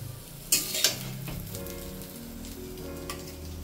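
Food frying and being stirred in a pan, an even close sizzle with two sharp scraping clatters of a utensil near the start, alone without talk.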